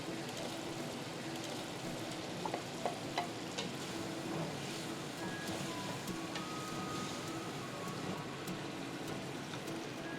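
Beef pieces stirred and frying with tomatoes in a pan for biryani gravy, a steady dense sizzle with scraping spatula strokes and a few small clicks throughout, no talking.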